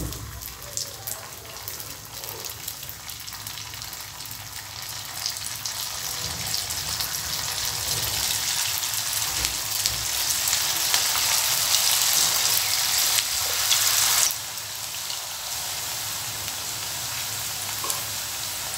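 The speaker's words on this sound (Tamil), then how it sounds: "எண்ணெய் சூடாயிடுச்சு. இதை நம்ம ஒன்றா போட்டு எடுத்துக்கலாம்." Battered cauliflower chilli pieces deep fry in hot oil with a dense, steady crackling sizzle that swells for a while and then drops back, close and continuous.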